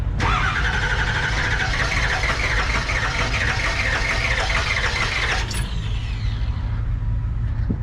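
A painted-up dump truck engine at an equipment auction turns over and runs with a steady loud diesel rumble and rising revs, then cuts down near the end.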